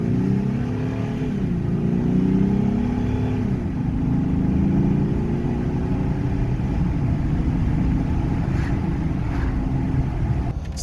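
Jeep Gladiator fitted with a Banks Ram Air cold air intake revs steadily, its engine tone rising and falling in pitch across several swells, loud and close, heard from inside the cab with no talking.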